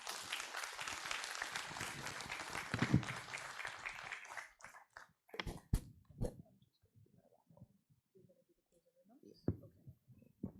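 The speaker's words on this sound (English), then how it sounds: "we want to thank him again with a round of applause" A summit audience applauds Dr. Jules, a full round of clapping for about four seconds that quickly thins out into scattered last claps, faint shuffling and a few quiet voices.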